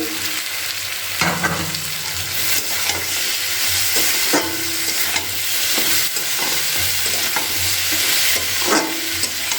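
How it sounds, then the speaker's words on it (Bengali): Vegetables stir-fried with turmeric and prawns in a pan for a spinach dish, a continuous close sizzle punctuated by repeated rhythmic spatula scrapes and knocks, without speech. "এবার দিয়ে আবার একটু নাড়াচাড়া করে নিচ্ছি"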